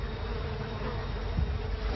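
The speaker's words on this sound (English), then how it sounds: "Keep hearing bees." A steady, dense buzzing of bees hums continuously throughout, close and fairly loud, with no voices.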